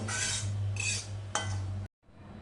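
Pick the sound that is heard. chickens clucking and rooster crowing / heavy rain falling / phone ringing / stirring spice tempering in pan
stirring spice tempering in pan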